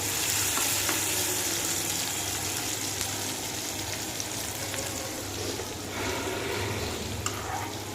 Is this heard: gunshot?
no